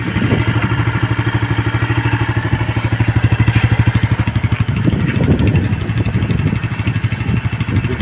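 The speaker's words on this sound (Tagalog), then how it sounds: "Mataas talaga ang idle nito" A Yamaha Sight 110 motorcycle, freshly fitted with a new con-rod and side bearing, idles high with a fast, even, clattering pulse, loud and close, holding steady for the whole stretch without speech.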